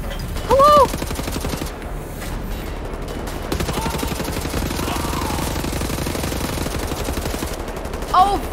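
Automatic gunfire in Wolfenstein: The New Order on a bridge at Gibraltar rattles loudly and steadily with rapid repeating shots, and short electronic chirps cut in near the start and end.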